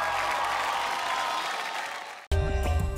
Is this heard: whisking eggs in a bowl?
no